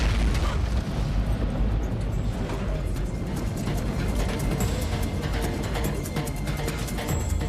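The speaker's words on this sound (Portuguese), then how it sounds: "há um estrondo." A dramatized boom from an airliner engine exploding during climb, rendered as a continuous loud, heavy rumble that fills the whole stretch with dense low roar and scattered crackle.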